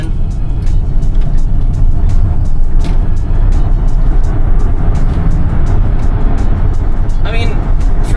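A Tesla Model X accelerates up a highway on-ramp, its steady broadband road and tire roar loud and continuous throughout, with a voice talking over the cabin noise.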